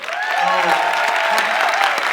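Brief applause from an audience at a mayoral debate, a steady spread of clapping lasting about two seconds, with a voice rising and falling over it.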